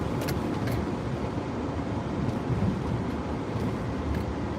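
Continuous road rumble and tire noise come from driving through Las Vegas streets in rush-hour traffic, a steady broadband drone with slight surges as vehicles pass.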